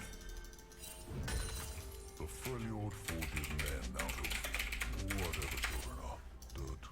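Quick clattering keystrokes on a computer keyboard during a video game match, heard under a voice talking and game sounds.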